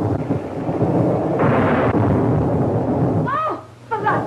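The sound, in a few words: thunder during a storm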